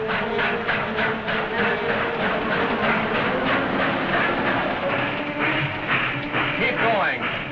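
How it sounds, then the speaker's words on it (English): A steam train running steadily, with rhythmic clickety-clack and a constant loud mechanical roar throughout. "Follow the train."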